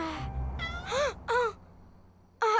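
Cartoon cat meowing several times in short, bright, rising-falling calls, with a pause before a last meow, heard alone and close without talk.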